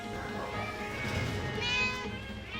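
A stressed rescue cat meowing in a drawn-out, wavering cry that rises toward the end, faint and close, with room noise underneath.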